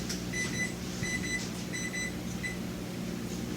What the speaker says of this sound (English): That was my timer to let me know to take it out of the oven.